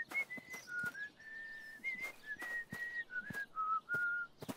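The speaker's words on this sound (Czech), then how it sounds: "Fadžitka dokáže pískat i bez krabičky." Someone whistles through pursed lips, a quiet run of short, clear notes at shifting pitches, broken by soft taps and clicks between phrases, with no talking.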